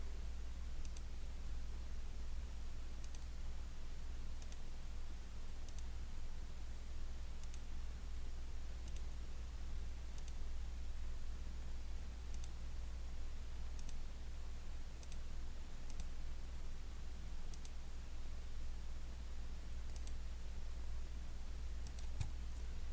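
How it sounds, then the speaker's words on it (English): A computer mouse clicks over and over while vector nodes are laid onto a shape in drawing software, giving sharp, quiet, evenly spaced clicks over a steady background hiss and low hum. "I am just going to start clicking and laying down nodes onto my shape"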